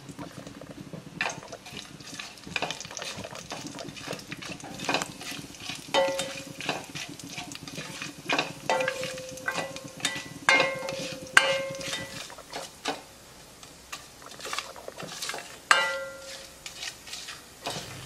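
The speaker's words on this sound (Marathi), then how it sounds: "हे जे खडे मसाले घेतलेत ते मी ह्या तुपामध्ये घालतो आणि 1-2 मिनिटं ह्याला आपण परतून घेणार आहोत" Whole spices fry in melted ghee as they are stirred, a soft continuous sizzle broken by scraping strokes and occasional light metallic clinks, close by and moderately quiet.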